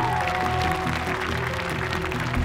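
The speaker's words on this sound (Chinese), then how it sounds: "掌声有请今晚的踢馆歌手" Studio audience applause for the incoming challenger singer on a televised singing competition stage, a steady dense wash of clapping with music tones running underneath, sustained and loud throughout.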